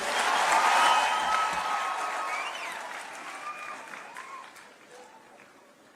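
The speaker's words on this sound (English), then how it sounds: "Let's give applause to His Excellency for such a wonderful speech." A large crowd at a Tangaza University graduation applauds His Excellency after his speech, loud dense clapping at first that gradually fades over six seconds, with faint voices calling out.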